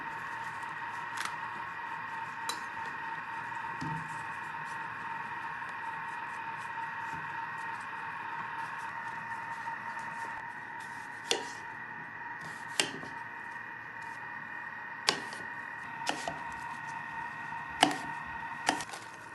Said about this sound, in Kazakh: Майдалап тураймыз.